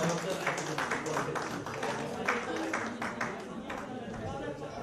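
Audience clapping at a Nepali-language Asian conference in Darjeeling, a steady patter of many hands with rhythmic bursts, moderately distant, while a voice speaks over the applause.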